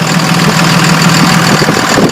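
Truck engine idling through a wide-open 4-inch exhaust, a loud, close, steady rumble with an even, slightly uneven pulsing throb and no voices.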